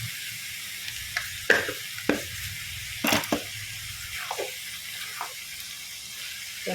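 White gourd and mung dal with salt and turmeric fry in a pan under a soft, steady sizzle while a spoon stirs them, making irregular scraping knocks spaced a second or so apart.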